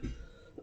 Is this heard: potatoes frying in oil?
no